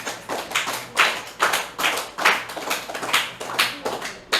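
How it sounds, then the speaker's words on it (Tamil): A classroom of students applauds a classmate with uneven, bursting claps that swell in clustered waves throughout, close and fairly loud with no talking. "அவனுக்கு ஒரு கைத்தட்டு கொடுங்க."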